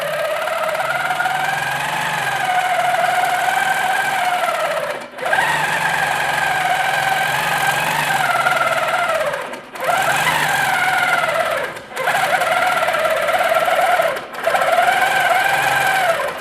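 A longarm quilting machine stitches a pantograph with a steady whirring hum that runs in long stretches, broken by four brief pauses, loud and close.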